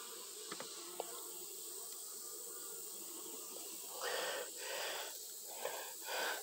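Honey bees on a brood frame of capped brood in an open hive, a soft, steady buzzing hum with louder swells near the end as bees move close by, no talk heard.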